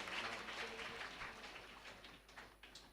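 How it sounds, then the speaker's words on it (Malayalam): A congregation at a Catholic retreat centre claps together in thanksgiving, a faint, steady patter of many hands that slowly thins toward the end. "നമുക്ക് കൈയടിച്ച് കർത്താവിന് നന്ദി പറയാം"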